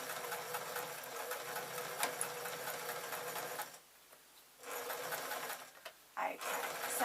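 A sewing machine stitching a lined grab bag with interfacing, a steady fast mechanical whirr that stops briefly near the middle and then resumes, close and fairly faint.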